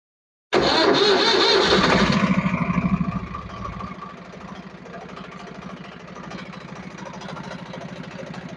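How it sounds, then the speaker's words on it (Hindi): A Swaraj diesel tractor engine with a diesel pump problem cranks and fires up loudly, roaring briefly before settling into a steady, rhythmic idle close by, with no talking. "अभी ट्रैक्टर स्टार्ट करके चेक करेंगे कितनी देर में ऑयल आता है"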